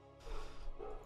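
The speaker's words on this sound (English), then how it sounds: "If you guys hear barking, that's Ollie" A Labrador barks twice, quickly, in faint, distant woofs heard alone against a low background hum.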